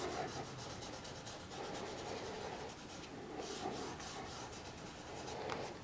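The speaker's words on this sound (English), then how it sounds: "then we just rub this in with our finger" Steady soft dry rubbing of a finger working charcoal into paper for a drawing, continuous and close, with slight rhythmic strokes and no talking.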